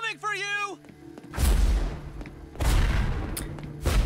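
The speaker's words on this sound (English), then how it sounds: "How did you rig those explosions to go off like that?" Rigged explosions in the animated series The Legend of Korra go off as three heavy booming blasts with long rumbling decays, preceded by a shouting voice and brief musical tones.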